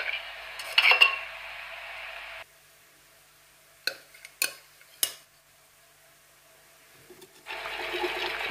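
Milk and thick crème fraîche are mixed into a filling for a mushroom, goat cheese and spinach tart, with bursts of whisking against a bowl at the start and end and a few sharp utensil clinks between quiet pauses.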